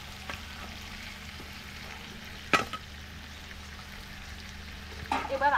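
Chicken pieces go into a spice paste frying in a pan for a desi-style chicken kosha, giving a faint, steady sizzle with a couple of brief clatters and a louder burst near the end.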